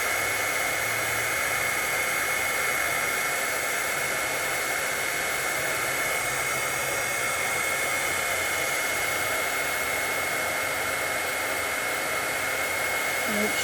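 A heat tool blows a loud, constant whooshing hiss while melting embossing powder to a shiny gold on crafted ornaments, with faint talk underneath.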